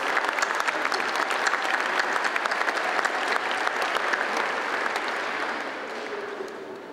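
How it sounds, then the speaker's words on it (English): An audience gives sustained applause after a speech, thick continuous clapping that stays loud and even before easing slightly at the end. "you deserve a huge, huge round of applause"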